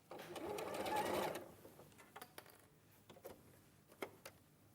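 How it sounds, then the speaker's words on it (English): A sewing machine stitches fabric in a short, fairly loud burst near the start, then falls back to scattered quiet clicks and taps during a faint, low-level setting with no clear speech. "Something quite nice about watching somebody else sewing"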